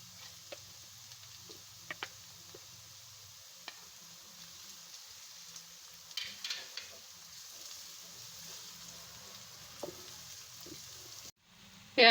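Chopped garlic and ginger fry with browning onions in a pan, a faint, low sizzle under scattered clicks and taps of a spoon, with a louder clatter near the end.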